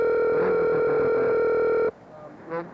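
A steady telephone dial tone hums loudly for nearly two seconds before cutting off abruptly, leaving faint background sound and a brief soft noise after it.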